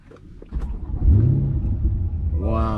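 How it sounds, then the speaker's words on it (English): A Chevrolet Corvette C8 engine cranks and starts nearby, rising into a deep rumbling idle with a brief rev, a voice beginning to speak at the end. "listen to that engine just roaring to life"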